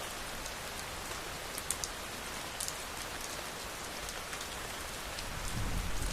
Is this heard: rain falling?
yes